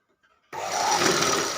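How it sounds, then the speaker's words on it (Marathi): A sewing machine motor, freshly fitted with new carbon brushes, whirs into motion after a moment of near silence and then keeps up a steady, fairly loud hum without any voices. "तर चला आता आपण मोटर चालून पाहूयात"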